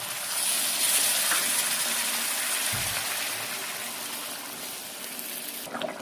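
Water pours into a pan of cooked-down spiced masala for a pomfret and potato curry, a steady hissing gush with a soft splash partway through and faint clatter at the end.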